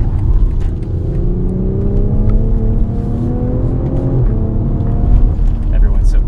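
A BMW X3 M40i drives and accelerates, its engine note rising steadily in pitch through the gears at close range. The engine stays continuously loud throughout, with a constant road and wind roar underneath.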